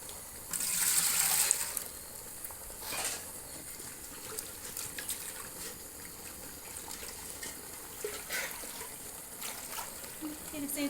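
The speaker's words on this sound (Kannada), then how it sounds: "ಈಗ ಸ್ವಲ್ಪ ನೀರು ಹಾಕ್ಕೊಳನಂತೆ" Water poured into a pot of goat head and trotters sambar makes a brief splashing gush of about a second, followed by faint quiet kitchen sounds.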